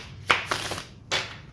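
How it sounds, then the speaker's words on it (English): Deck of tarot cards given a quick shuffle, close papery riffles in a few short bursts with brief pauses between. "So I'm going to give these cards another quick shuffle."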